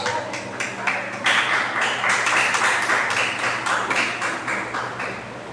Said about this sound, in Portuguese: bater palmas, bem alegre para Jesus